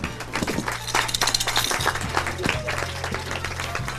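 Applause for the competing teams at a school youth challenge event, a lively mix of many hands clapping with some crowd noise and a steady low hum underneath.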